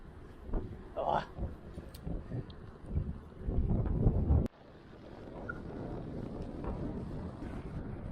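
Headwind buffeting a microphone while riding a mountain bike over a long open stretch, a loud low rumbling roar that gusts and swells, with occasional faint voice sounds mixed in.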